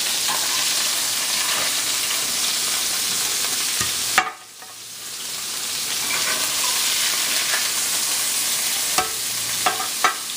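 Salmon and scallops fry in a hot pan with a loud, steady broadband sizzle that cuts out briefly midway, then resumes with a few light clinks near the end.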